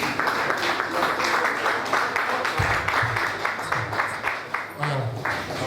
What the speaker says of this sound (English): Please a round of applause for the president one more time.